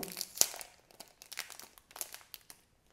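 Paper packaging around a notary's letter crinkles and tears as it is opened by hand, a sharp crunch early on followed by scattered softer rustles, close and fairly quiet with no talk.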